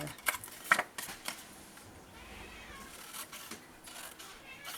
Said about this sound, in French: Le chat qui veut quelque chose.